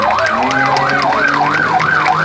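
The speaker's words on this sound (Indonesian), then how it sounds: "di sini ada mobil polisi." A toy police car blares a loud, fast wailing siren that sweeps up and down in a regular rapid cycle, continuous and close throughout.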